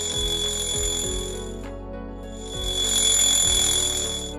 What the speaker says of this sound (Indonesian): mendengar suara alarm itu